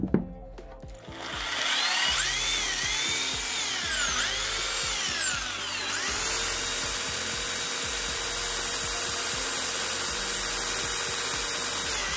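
Electric jigsaw powered from an EcoFlow DELTA 2 power station, a loud, high-pitched motor whine that rises and dips with load over the first half, then settles into a steady, sustained cutting drone; no speech.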